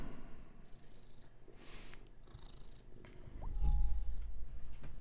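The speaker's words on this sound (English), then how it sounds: "She purrs hard." Willow the cat purring hard, a steady low rumble running through the clip and swelling louder near the end, with faint background sounds and no talking.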